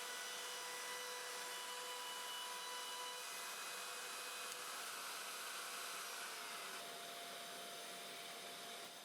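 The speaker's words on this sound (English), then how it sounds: "I'm going to mill again to check the maximum diameter with this other jig" A handheld wood router fitted with a cheap modified circle jig mills a wide circular cut of about 150 millimeters, giving a steady, loud, high whine that holds unbroken throughout with no talk.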